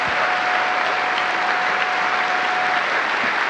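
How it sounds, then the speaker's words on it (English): At a NASA crew announcement, a crowd gives a round of applause that is steady, dense and loud, and it runs without a break from start to finish. "Let's give them another round of applause."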